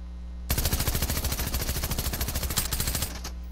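Rapid automatic gunfire from a Stinger or machine pistol in a video game, one loud continuous burst of closely spaced shots lasting about two and a half seconds, alone.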